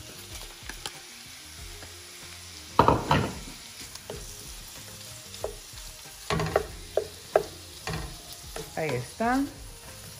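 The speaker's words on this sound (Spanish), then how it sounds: "Ahora vamos a estar añadiendo nuestro camarón" Butterflied, cleaned and dried shrimp hit a frying pan for garlic shrimp, giving bursts of loud sizzling and stirring clatter that come and go over low heat, with a brief spoken phrase.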